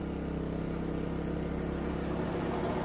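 A Sportsman portable generator's engine runs steady and loud under load while powering fans, a constant close mechanical drone with no talk.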